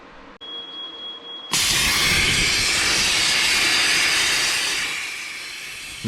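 A Bestarc BTC800XP plasma cutter slicing freehand through 1-inch round bar: a soft pilot hiss, then a loud, steady roaring hiss once the arc bites in, fading slightly toward the end.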